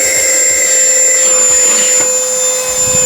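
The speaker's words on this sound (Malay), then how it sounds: "Tekan lagi sekali untuk tingkatkan lagi dia punya suction power" A cordless vacuum cleaner with a 110-watt motor whines steadily at a raised suction setting, holding a loud, even tone close by throughout, with no voices.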